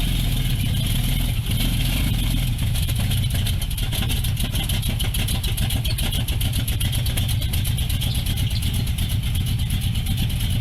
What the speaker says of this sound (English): Leave it to Sloss to have a four-wheel drive that sounds like a pro stocker